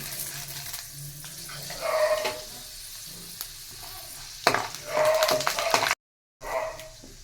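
Chana dal and urad dal frying in a pan, with intermittent sizzling bursts and scraping stir sounds between quieter gaps, close by.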